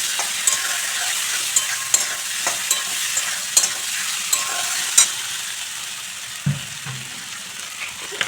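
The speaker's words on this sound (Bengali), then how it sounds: "এবং দিচ্ছি টমেটো কুচি। সব কিছু উপকরণ একটু ভালো করে নাড়াচাড়া করে নেব।" Chopped tomato stirred with Kashmiri chilli powder and spices in a pan for Bengali khichuri, with steady frying sizzle and repeated scraping strokes of a spoon, one heavier knock near the end.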